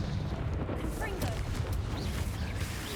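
In Hogwarts Legacy a Confringo fire spell rumbles as a dense, roaring blast, with continuous booming and crackling impacts at a steady loud level and a rushing whoosh running through it.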